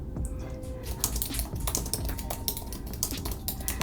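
Computer keyboard typing, a steady run of close, fast key clicks and taps continuing throughout.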